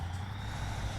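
A truck engine in the Spintires game drones low and steady in second gear, a continuous rumble with faint higher mechanical whine, briefly and alone.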